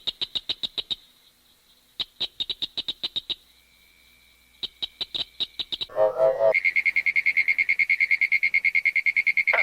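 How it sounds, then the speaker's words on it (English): A chorus of Southern cricket frogs (Acris gryllus dorsalis) gives rapid bursts of sharp, high clicking calls, pausing and resuming. Another frog's fast, continuous pulsing trill then takes over loudly near the end. "Cricket frog, Acris gryllus dorsalis, is the smallest species in the chorus."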